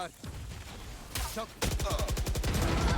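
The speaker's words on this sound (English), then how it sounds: "you're shooting the Stinger" Rapid bursts of Stinger submachine gun fire in a Valorant esports match, loud, dense rattling volleys that start, pause briefly and resume, with faint voices and game sounds around them.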